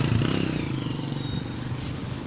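A motorcycle engine runs close by, a low throbbing idle with rapid pulsing and faint clattering, steady throughout with no talk.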